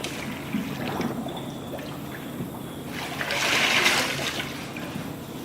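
Water sloshing and trickling in a wash tank as heads of lettuce are rinsed in a produce pack house, a steady close wet churn that swells briefly louder midway.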